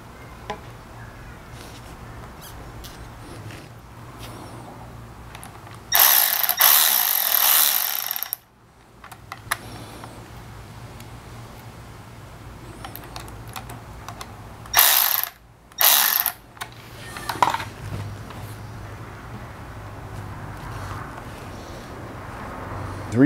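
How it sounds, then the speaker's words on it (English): Worm gear hose clamp on a coolant hose being tightened on a Jeep Wrangler 2.0 turbo during an oil catch can install, with a few loud ratcheting bursts separated by quiet gaps, close up. "Make sure you attach one of these clamps with the worm gear."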